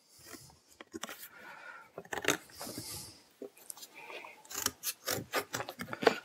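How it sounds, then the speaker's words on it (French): Thick cardboard being cut into small squares for roof-insulation washers, heard as close, irregular snipping and crunching cuts in short bursts, growing more rapid toward the end. "Donc, je découpe mes petits carrés de carton."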